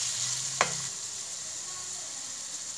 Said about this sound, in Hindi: हमारे कीमे का पानी खुश्क हो चुका है। हम इसको फ्राई करेंगे थोड़ा सा